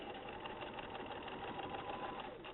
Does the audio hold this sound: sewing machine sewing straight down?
yes